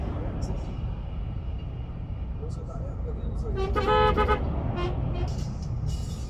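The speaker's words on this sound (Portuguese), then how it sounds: "Quando conhece a gente, é isso buzina, hein?" A truck horn blares briefly over a steady, loud truck engine rumble on the road, with talking nearby.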